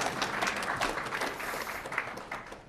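An audience claps together in a short burst of applause at a talk, steady and fairly loud with no voices over it.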